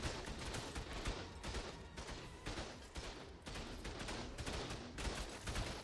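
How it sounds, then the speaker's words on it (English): Turrets in ARK: Lost Colony firing at a boss, a steady stream of rapid gunfire bursts pounding away continuously in a loud, dense barrage. "The turrets are doing tons of damage"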